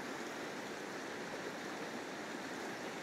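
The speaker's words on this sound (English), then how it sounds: "here is our emerging wetland getting blessed by the sediment-rich waters, living waters, of our Bear River" The Bear River runs at about 600 cubic feet per second past an emerging wetland in December, making a steady, broad rushing of water that holds even throughout, moderately loud, with no voices.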